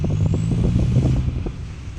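A Saab 9-5 Turbo with an exhaust leak builds boost on a quiet snowy street, a rough engine rumble with a rapid puffing flutter and a rising whistle that fades out near the end.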